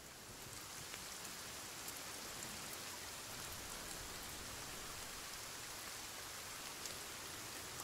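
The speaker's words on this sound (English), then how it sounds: "No, it's raining." Rain falls steadily in the video game Sons of the Forest, a soft, even hiss of drops on surfaces with occasional faint taps, continuous and quiet throughout with no speech.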